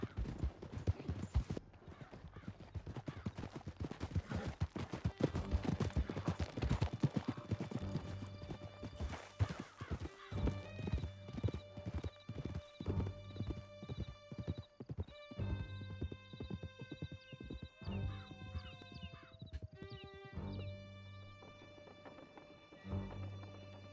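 A horse gallops with fast, rhythmic hoofbeats and gives occasional whinnies in Red Dead Redemption 2. The hooves stay close and prominent throughout, and music and game sounds swell and layer over them in the second half.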